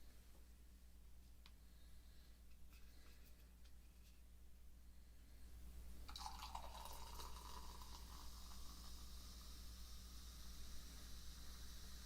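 A barrel-aged Scotch ale is poured into a glass in a very quiet room, starting with faint near handling sounds, then a soft steady liquid pour and fizz begins around the midpoint and continues to the end.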